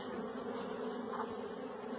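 A honeybee hatching from its comb cell gives off a steady, close insect buzz that holds even and faint throughout, with no voices.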